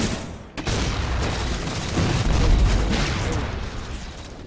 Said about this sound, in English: Whoa. Grenades!